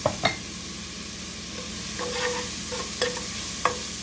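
Ingredients for oyster stew sautéing in a pan with Louisiana seasoning: a close, steady sizzle under a few sharp utensil clicks and scrapes spread across the stretch, with no talking.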